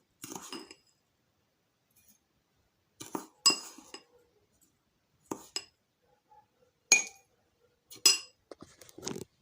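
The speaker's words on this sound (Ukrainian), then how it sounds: "Дві з половиною столові ложки солі." Salt going into a glass jar of cucumbers for pickling, heard as a few separate clinks and scrapes of glass and spoon with quiet gaps between them, close and fairly faint.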